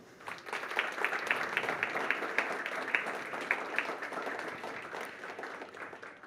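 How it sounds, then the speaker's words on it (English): Audience applause welcomes a guest onto a career-change panel discussion stage: sustained, moderately loud clapping with a slightly rhythmic pulse, filling the room evenly before tapering toward the end. "So with a huge round of applause"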